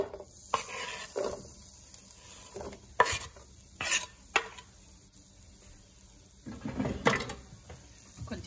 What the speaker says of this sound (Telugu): ఆయిల్ కాగింది, ఉల్లిపాయలు వేసేద్దాం.